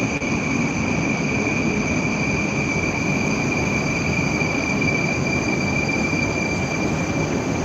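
A train rolls into a station in Moscow on a cold autumn morning with a loud, sustained high metallic squeal from its wheels over a heavy rumbling, continuous throughout and close by.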